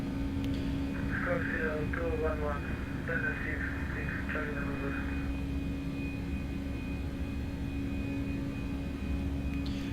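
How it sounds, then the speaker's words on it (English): CFM jet engines on an Airbus A321 in the X-Plane 12 flight simulator, a steady low engine rumble and whine running throughout, with faint radio chatter over it. "Oh, I love the CFM sounds."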